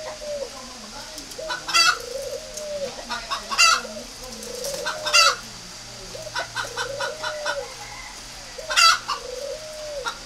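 Breeding pairs of spotted doves coo repeatedly in an aviary, a series of close, rolling calls arriving at irregular intervals over quiet background hum, with sharp flutters or clucks between some phrases.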